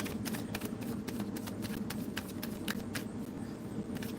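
Tarot cards being shuffled by hand during a live card-pull session, a steady run of soft riffling and flicking clicks close by, with no talk over it.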